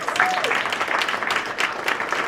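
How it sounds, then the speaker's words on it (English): A round of applause at a Kenosha Emerging Leaders Academy announcement, honouring the City of Kenosha. Continuous crowd clapping from a gathered audience runs throughout, with a faint voice briefly audible under it at the start. "So City of Kenosha, please stand up, round of applause"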